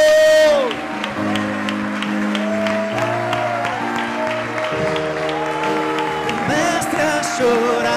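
A church congregation at a Baptist service applauds and cheers, dense clapping and whoops filling the room over sustained keyboard chords, with a voice calling out over the crowd.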